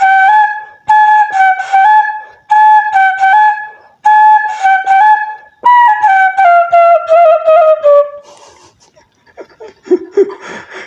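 A flute imitates the call of the kedasih bird: repeated two-note whistled phrases, clear and loud, then a longer descending run before the sound fades into quiet rustling.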